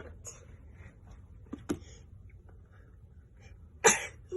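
A single sharp sneeze near the end, preceded by a couple of faint breathy sounds and small bumps in an otherwise quiet room.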